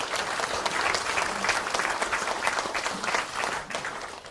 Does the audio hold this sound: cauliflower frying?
no